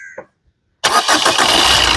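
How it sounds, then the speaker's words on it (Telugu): After a brief silence, a 2019 Maruti Suzuki Swift Dzire LDI diesel car engine cranks and catches abruptly on a single crank, settling into a loud, steady running roar. "సింగిల్ సెల్ఫ్ లో కార్ స్టార్ట్ అవుతుంది"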